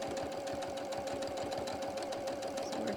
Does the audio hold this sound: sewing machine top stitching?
yes